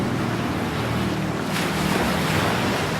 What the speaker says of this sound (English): See the glittering ocean at Eastcombe, its waves unravelling in curving surges.